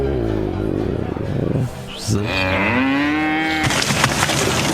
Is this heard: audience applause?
no